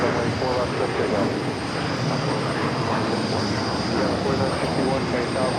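Delta airliner taking off from runway 4 left at JFK, a steady broad roar of jet engines holding loud and even throughout, with no clear rise or fade.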